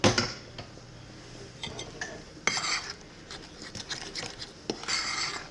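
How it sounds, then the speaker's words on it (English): A utensil scrapes and clinks against a bowl while milk and shortening are mixed into homemade dumpling dough, in irregular bursts with quiet gaps, close and moderately soft. "after I cut in the shortening, I'm going to add 3/4 cup of milk and mix it up"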